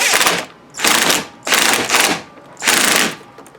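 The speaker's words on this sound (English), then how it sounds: "So I've got my 11 millimeter wrench here. I'm going to tighten this." An 11 mm wrench tightens a mudflap bolt in four loud, close bursts of rapid ratcheting clicks, each lasting roughly half a second with short pauses between them.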